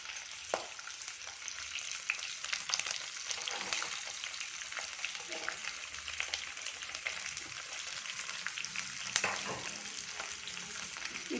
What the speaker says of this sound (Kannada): ಐದು ಹಸಿಮೆಣಸಿನ್ಕಾಯಿ ಹಾಕ್ತೀನಿ ಒಂದು ಉಪ್ಪುದು ಈರುಳ್ಳಿ ಕಟ್ ಮಾಡ್ಕೊಂಡು ಹಾಕೊಂಡಿದ್ದೀನಿ